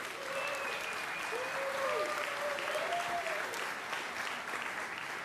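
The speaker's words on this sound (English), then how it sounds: "One more round of applause." An audience at the 2018 Indigenous Music Awards gives sustained, even applause for a Best Instrumental Album win. The dense clapping fills the room throughout, with a few faint tonal sounds riding over it.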